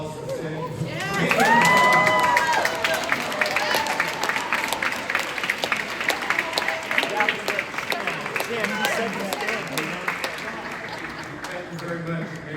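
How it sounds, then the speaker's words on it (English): A seated audience at a law pathway program keynote rises and applauds, a loud swell of clapping with cheers and shouts that peaks early, then settles into steady, sustained applause near and far. "can you all stand and just give yourselves a round of applause for sitting?"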